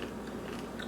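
Biting into a crunchy dehydrated homegrown garden vegetable snack with tahini, a short burst of close, crackly crunching and chewing.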